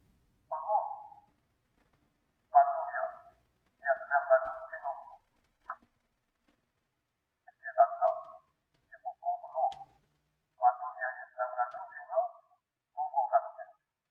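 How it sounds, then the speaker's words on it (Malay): Band-limited audio cut down to mid-range frequencies only, heard as a series of thin, boxy, intermittent bursts separated by short silences, with no low bass or bright treble. "Ini bunyi mid range saja."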